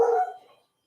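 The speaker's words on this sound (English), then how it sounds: "my dog is a little wacky right now" A single short, close dog bark that quickly fades into silence.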